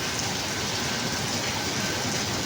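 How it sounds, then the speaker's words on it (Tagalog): Heavy rain pours down in a steady, dense roar that stays loud and constant throughout, with no voices. "Pakita ko sa inyo mga kabayan na sobrang lakas ng ulan."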